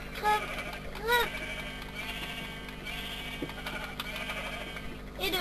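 Sheep bleat in Minecraft on PS3, two short wavering calls close together near the start and another at the end, heard over steady background game noise with people talking.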